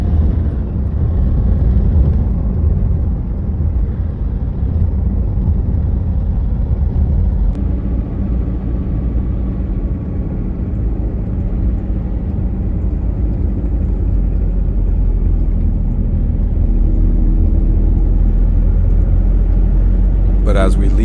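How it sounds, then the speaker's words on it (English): Steady road rumble from vehicles moving through a busy public market in a small mountain town in Nueva Vizcaya, a continuous low drone with passing traffic and no clear voices. "The town is busy and full of life. People are shopping, vehicles are passing by"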